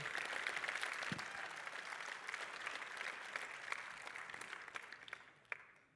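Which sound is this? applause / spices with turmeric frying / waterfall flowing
applause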